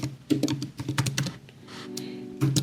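Keystrokes on a computer keyboard, a quick burst of close, crisp taps with brief pauses while building a formula, ending in a few louder presses.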